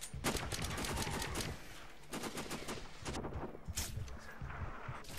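Gunfire in a video game: sharp, loud shots in quick clusters, several bursts separated by short pauses, close and mostly alone with little talk.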